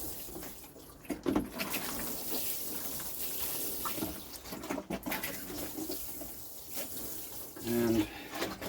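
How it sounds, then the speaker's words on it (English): Water splashes and pours steadily onto plants, a soft continuous wash with a few bird calls and brief voices in the background. "move them in the greenhouse and give them a water"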